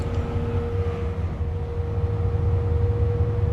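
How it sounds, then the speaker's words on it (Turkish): Bus road noise in Euro Truck Simulator 2, a Temsa Maraton: a steady low rumble with a constant engine drone and a faint tonal whine, even and unbroken throughout. "Ya şu yol sesi çok güzel olmuş ya bak."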